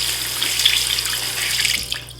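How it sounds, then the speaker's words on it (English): Tap water runs steadily into a sink, wetting makeup sponges for cleaning, a close, continuous splashing stream with no voices. "And then I turn the water on and I just squeeze it all out."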